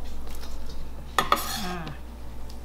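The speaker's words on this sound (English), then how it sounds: "And now I'm gonna transfer this steak to the bowl." Grilled steak for a Bangkok-style Thai beef salad is moved into a bowl: quiet room tone, then two quick utensil clinks and a short scrape, close and fairly faint.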